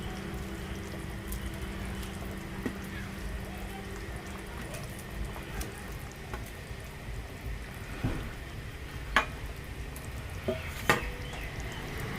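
Fish curry cooks in a pan in a village kitchen, a soft steady bubbling hiss broken by occasional sharp scrapes and taps of a spoon stirring against the pan, close and fairly quiet with no talking.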